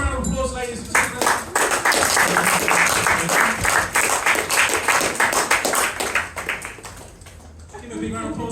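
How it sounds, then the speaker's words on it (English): A hypnosis show crowd at Colchester Fringe bursts into dense applause that swells quickly and holds for several seconds before thinning out, with a voice talking over it. "just so give them a big round of applause, ladies and gentlemen"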